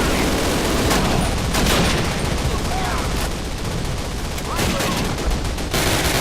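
Dense gunfire in the video game Call of Duty rattles almost without pause, overlapping bursts and single shots forming a loud, continuous fusillade.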